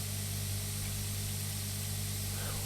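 In Pure Farming 2018, a crop sprayer works a Japanese cherry farm, giving off a continuous wide hiss over a steady low engine hum. The sound stays level and close for the whole short stretch, with no voices.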